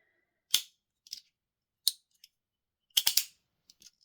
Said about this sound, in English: Really satisfying snaps.